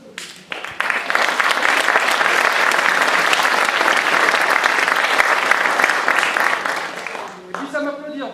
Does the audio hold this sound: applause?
yes